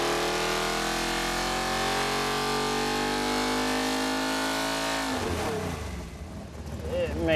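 A V8 engine fed by a single 1150 Dominator carburetor holds a loud, steady roar on a dyno, rich in harmonics, then cuts off abruptly and leaves rumbling and lower noise, with no talking.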